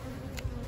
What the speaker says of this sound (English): There's kind of bees crawling up on it right now.